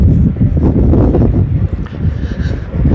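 Strong wind blows outdoors at a newly opened leisure park area, a loud, continuous buffeting rumble hitting the microphone with faint rustling underneath.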